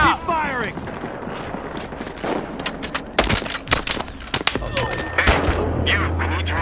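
Rapid gunfire in the video game Battlefield Hardline, bursts of shots and heavy blasts crackling through a noisy firefight, with a low rumble building near the end.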